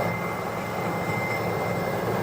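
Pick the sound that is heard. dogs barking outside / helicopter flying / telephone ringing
helicopter flying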